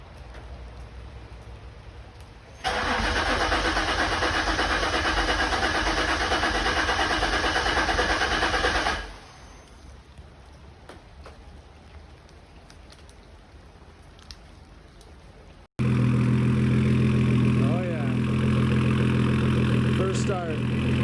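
A 2010–2019 Ford Taurus SHO engine, just fitted with new fuel injectors, cranks loudly and at length, drops to a quieter rumble, then catches and settles into a steady idle.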